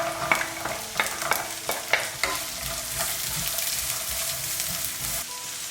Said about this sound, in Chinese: 把腊肉这些肥肉呢煸到透明，加入香菇，继续炒香。